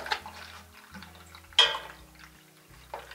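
Water drains from the air bleed valve of an old household radiator into a small container held beneath it, a steady trickling with small drips and splashes, fairly close, with a few knocks partway through.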